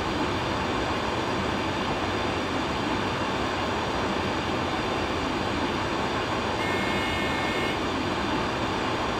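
A short electronic alert tone from the LZB distance-measurement system sounds for about a second in an ICE 3 cab in Train Simulator 2016, on the Mannheim to Karlsruhe route, over a steady loud rumble of the running train.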